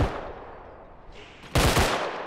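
Automatic machine gun fire in a realistic first-person shooter game: a quiet stretch of ambience, then a loud, sharp burst of rapid shots near the end, close and dominant.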